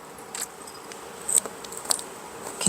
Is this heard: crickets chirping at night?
yes